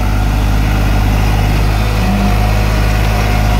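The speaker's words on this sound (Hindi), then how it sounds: "तो भाई यू 7 फुटा रोटावेटर में चल रहा है" A New Holland 3630 Special Edition tractor running with a 7-foot rotavator gives a loud, close, unbroken engine drone with a steady low hum and even mechanical whine, with no voices.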